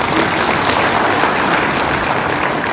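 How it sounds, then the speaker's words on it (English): An audience applauds at a university vice chancellor's inauguration ceremony at Solusi University, with dense, steady clapping that stays loud throughout and has no talk over it. "We want to applaud him."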